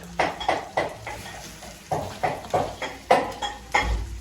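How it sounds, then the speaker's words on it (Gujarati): Green turmeric roasted and stirred in a kadai: a steady run of scraping, clinking strokes of a spatula against the metal pan, about a dozen rhythmic scrapes over a faint sizzle, close by. "હવે જે નાખી દીધો કડાઈમાં જે ગરમ થાય છે હવે હવે હળદર શેકી કાઢીએ છીએ લીલી"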